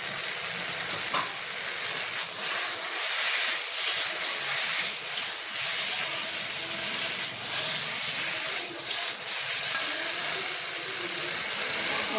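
Mixed vegetables and ground spices (turmeric, Kashmiri chili and coriander powder) fry in a pan for khichdi, giving a continuous close sizzle and hiss with occasional stirring scrapes and no talking.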